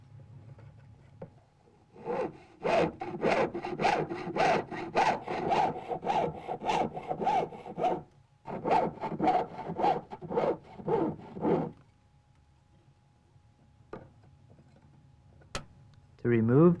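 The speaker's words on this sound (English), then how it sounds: "When sawing an interior area, in a process called piercing, I first loosen the blade and thread the object onto it." A jeweler's saw cutting an interior area of metal: steady rhythmic rasping strokes in two long runs, close and clear, followed by quiet handling sounds and a brief voice near the end.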